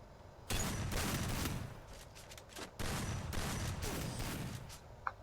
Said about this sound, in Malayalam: എന്നോട് ഒളിച്ച് ആദ്യമായിട്ട് എനിക്കിട്ട് വെടി വന്നു